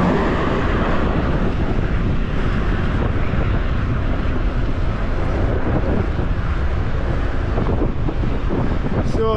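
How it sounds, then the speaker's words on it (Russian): Steady, heavy wind buffeting the microphone outdoors near Yalta, Crimea, in February, a continuous low rumble and roar that stays loud throughout. "Начинается ветер."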